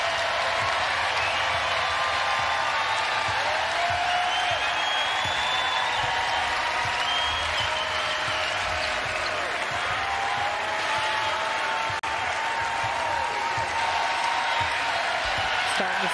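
A basketball arena crowd at the Big East Championship final rises to its feet, a dense, steady roar of cheering and applause filling the space throughout, with a commentator talking over it.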